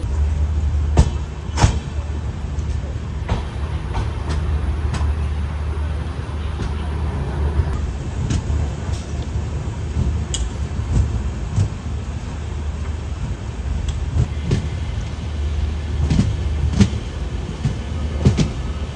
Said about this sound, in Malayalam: നമ്മുടെ ബാംഗ്ലൂർ എക്സ്പ്രസ് ഇവിടെ നിന്ന് എടുത്തു കേട്ടോ.